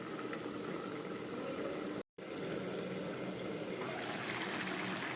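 Papaya and radish labra simmers under a lid in a covered pot, a steady soft bubbling hiss broken once by a brief moment of silence.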